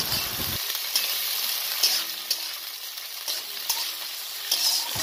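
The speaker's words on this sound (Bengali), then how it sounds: "এই তেলতে আমরা পেঁয়াজ কুচি যে করে নেওয়া হয়েছে, এই পেঁয়াজ কুচিগুলা ভাজি নিব খানিক" Chopped onions sizzle in hot oil, a steady close frying hiss with occasional stirring clicks, no talking.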